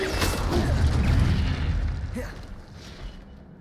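Incendio fire spell cast in the video game Hogwarts Legacy: a heavy, booming burst of flame opens, then a rumbling roar fades away over a few seconds, with a small pop near the end.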